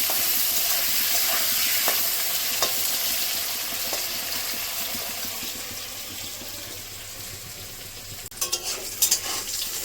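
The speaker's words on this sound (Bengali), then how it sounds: "লবণ দিয়ে আলুগুলো ভেজে নেব। কলা আলু দুটো একসঙ্গে ভেজে নেব।" Raw green banana and potato pieces fry in a pan with salt for a Bengali rohu fish curry, giving a steady close sizzle that fades slightly and ends with a few sharp clatters.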